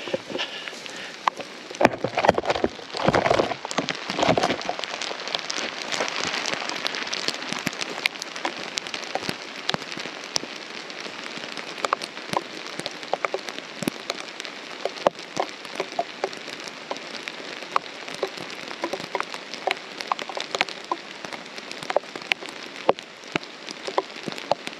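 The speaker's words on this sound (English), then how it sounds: "Maybe I'll set the camera down and let you guys enjoy the rain." Steady rain falling on a hiking trail, a dense, even patter of drops close by with scattered louder splats, continuing without pause and no talk.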